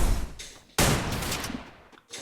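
Shotgun and MP5 fire in the video game Free Fire: a few sharp, loud synthetic gunshot bursts, one big blast near the middle followed by a decaying tail and another shot at the end.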